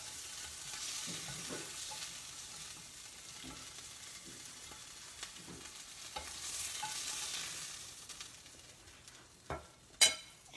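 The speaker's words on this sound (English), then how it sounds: "finish stirring in our Parmesan cheese and the half and half" Parmesan cheese and half and half being stirred into an acorn squash risotto in a pan, a soft continuous stirring with faint sizzle, quiet and close, ending in a couple of sharper clicks.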